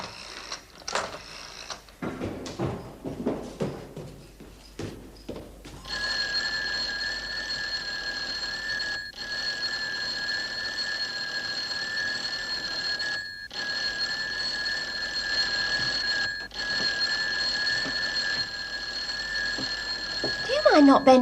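A bell rings continuously for over fifteen seconds with a steady metallic tone and brief gaps, while people talk in the background.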